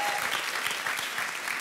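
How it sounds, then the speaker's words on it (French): Studio audience applauding contestants on a French television game show, a brisk close burst of many hands clapping, steady throughout. "on vous applaudit"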